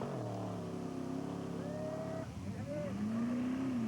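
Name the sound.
Pro Truck race trucks starting, Chevrolet and Ford F-150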